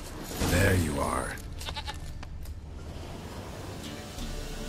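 Goat bleating in The Witcher 3: Wild Hunt, a loud wavering bleat at the start followed by quieter outdoor ambience with wind and surf-like noise.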